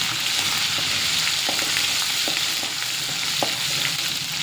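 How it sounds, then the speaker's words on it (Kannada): Ginger garlic paste frying in hot oil for mutton keema, a dense, constant close-up sizzle with faint occasional taps from stirring, steady and loud throughout. "ಫಸ್ಟಿಗೆ ಅದ್ರಕ್ ಲಸನ್ ಪೇಸ್ಟ್ ಹಾಕಿ ಒಂದು ಸ್ವಲ್ಪ ಅದು ಸ್ಮೆಲ್ ಹೋಗೋತನ ಚಲೋ ಫ್ರೈ ಮಾಡ್ಕೋಬೇಕು."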